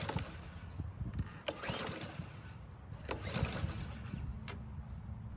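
A Troy-Bilt lawn mower engine turns over with a few sputtering pulls and cranks but fails to catch, heard nearby over a steady outdoor background with birds chirping faintly.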